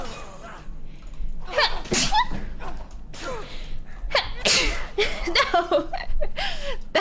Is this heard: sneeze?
yes